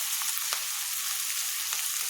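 Chicken meat sautéing in a pan for a curry, a steady bright sizzle of frying with a few faint stirring clicks, continuous and close, with no voices.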